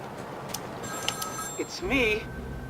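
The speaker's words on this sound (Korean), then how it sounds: "밖에 있는 전화기 같은데?" A telephone rings in a Batman Arkham City game scene, a thin electronic trill under game sounds and someone talking over it.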